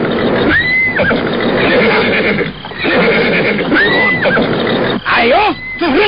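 A horse neighs loudly several times in shrill rising and falling whinnies, mixed with people talking close by.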